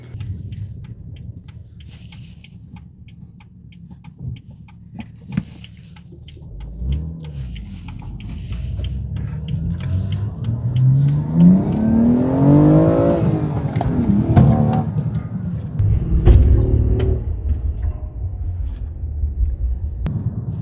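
A BMW M235i fitted with a downpipe and factory exhaust, backing out and driving off, its engine rumble building to a louder rising rev before settling into a steady drone nearby.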